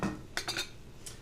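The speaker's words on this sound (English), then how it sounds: "Give it a quick stir." Utensils knock and clink against a pan during a quick stir of white wine butter sauce, a few brief metallic taps close by.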